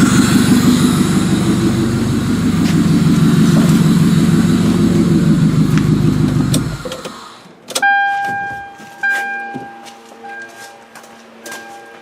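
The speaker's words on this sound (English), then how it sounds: "Going to touch it off the positive. Look at that, just starts right up." An old thrill show car, hot-wired by touching a bare wire to the positive, cranks and fires into a loud, steady running engine for several seconds, then shuts off, leaving clicks and short ringing metallic sounds.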